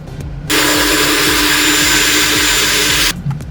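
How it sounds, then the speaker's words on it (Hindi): A mixer grinder whirs loudly for a few seconds, coarsely grinding, with a steady high-pitched motor drone, then cuts off abruptly, followed by faint clatter. "अब इसे हम मिक्सी में घुमाएंगे 1 से 2 बार।"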